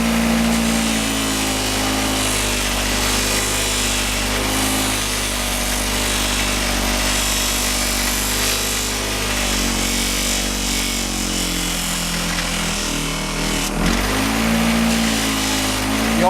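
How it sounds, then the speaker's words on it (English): An aluminum handlebar riser is pressed against a buffing wheel, making a loud, continuous motor whine and rushing hum with a brief dip in pitch where the part meets the wheel harder. "You always want to polish on the downhill side of the wheel where this part can't come and hit you."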